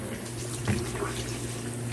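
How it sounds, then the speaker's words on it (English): Water sloshes and splashes close by as clothes soak in a basin of detergent solution, a steady liquid wash with a brief louder splash near the middle. "Babad muna natin lahat ng mga damit niya dito sa may detergent."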